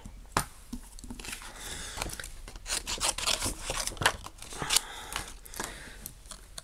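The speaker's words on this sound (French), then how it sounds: "Et on va donc découper notre sentiment." Scissors snip through paper, cutting out a greeting-card sentiment for a handmade scrapbook card: a steady run of close, crisp cuts and rustles, repeated irregularly throughout with no voice.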